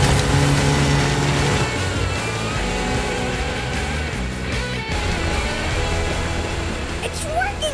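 A cartoon auger machine grinds a tunnel through deep snow, a steady engine-like drone with a churning mechanical rumble that holds loud and continuous alongside background music.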